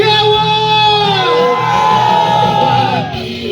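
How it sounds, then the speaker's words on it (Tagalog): Fraternity chapter members shout together in one long, loud group yell at a live performance at a private swimming pool. Many voices hold a sustained, strained cry that dips and swells slightly before easing off. "Buong chapter, isang malakas na sigawan!"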